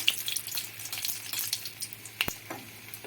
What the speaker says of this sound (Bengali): শুকনো লঙ্কা ভাজা ভাজা হয়ে গেছে। এবার দিয়ে দেব 2টো তেজপাতা